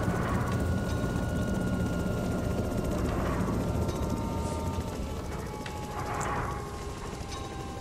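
A helicopter in the video game DayZ drones with a continuous loud rotor thrum and engine whine, steady throughout with faint mechanical rattles, and no voices over it.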